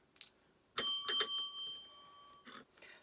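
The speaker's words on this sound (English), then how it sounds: "So we've been ringing that bell today." A small bell is struck a couple of times in quick succession, close and clear, its ringing tone decaying over the next second before a few faint shuffling sounds.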